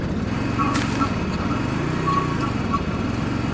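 A lawn mower engine from the MrCrayFish vehicle mod in Minecraft putters steadily, a buzzing motor drone with a few clicks on top, while a person talks over it.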